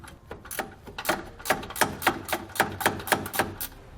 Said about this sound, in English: We'll be using a 13mm socket for all of those bolts.